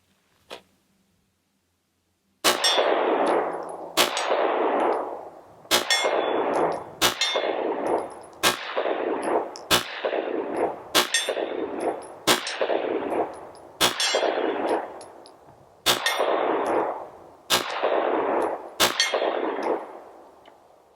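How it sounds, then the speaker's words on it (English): A SAR Arms B6P 9mm pistol fires a long series of shots at a distant steel gong, each sharp crack trailing into a ringing metallic clang, roughly one shot every second, loud and outdoors after a brief quiet start. "I got a gong set up there. It's a long ways away, but I'm going to see if I can hit it."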